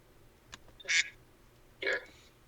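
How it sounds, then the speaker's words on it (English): A duck quack sound effect plays in a casual conversation: two short, bright, nasal quacks about a second apart, clear and close, with only quiet room noise between them. "Did you just put a quack sound?"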